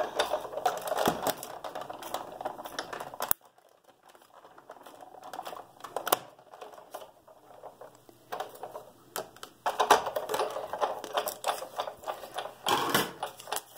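Designer series paper being cranked through a die-cutting machine to cut a circle for a card, heard as close, dense mechanical clatter and ratcheting that pauses briefly and then resumes, with no speech.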